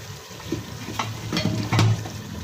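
Potatoes stir-fried in a pan for a Punjabi aloo dish as the water cooks off, giving a close, steady sizzle broken by a few louder scraping stirs.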